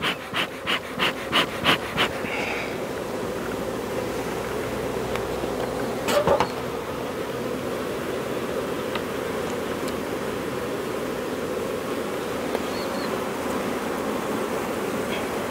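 Honey bees hum in a dense, steady drone around an open hive during a beekeeping inspection, after a few opening clicks and taps of equipment, with a brief rustle midway and no speech.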